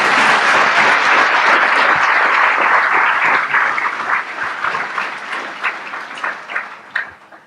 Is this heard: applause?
yes